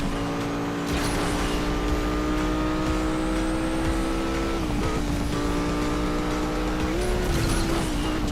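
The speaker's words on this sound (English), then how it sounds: "I'm glad that this one does have a V10 sound." A V10 car engine in the Asphalt 8 racing game drones loudly and continuously at steady high revs, with brief pitch dips at gear shifts.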